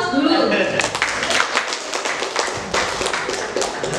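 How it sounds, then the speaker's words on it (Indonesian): Audience at a training session on child development breaks into brisk applause, dense clapping close and steady for several seconds before thinning out. "Baik, kita beri aplaus dulu."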